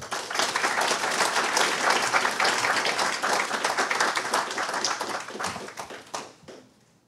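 Audience applause welcoming a speaker, Kishore Mahbubani, before a talk on U.S.-China relations: steady, dense clapping from a large crowd that holds for about six seconds, then thins and fades out.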